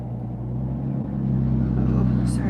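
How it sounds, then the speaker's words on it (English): Loud car passing outside, a steady low engine rumble that swells slightly partway through and stays strong to the end, with a faint high sound near the close. "there's a loud car outside"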